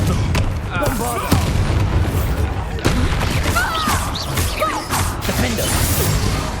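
A Bombarda spell explosion in Hogwarts Legacy booms and crashes loudly amid a dense, chaotic battle mix of repeated blasts, whooshes and impacts throughout.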